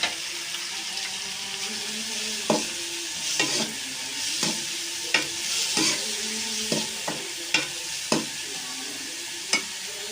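Carrots and capsicum stir-frying in a pan for chicken macaroni, a steady hiss of sizzling broken by repeated sharp scrapes and clacks of a spatula at uneven intervals, with no talking.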